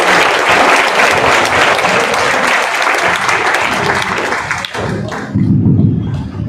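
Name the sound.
audience applause for traders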